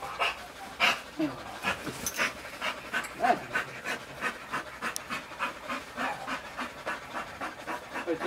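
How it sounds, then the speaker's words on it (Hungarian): A dog pants steadily throughout, quick rhythmic breaths close by and moderately loud, with a few faint whimpers mixed in. "Jó kis kutya!"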